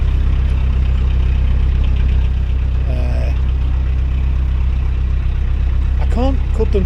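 A narrowboat engine ticks over at low revs on a canal between Macclesfield and High Lane, a steady close-up idling rumble throughout, with brief squeaky noises near the start and again near the end.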